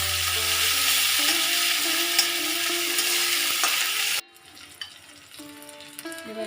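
Onion, onion paste, tomato and ginger paste frying in a pan: a loud, steady sizzle that drops off suddenly partway through, leaving quieter crackles and faint kitchen noises.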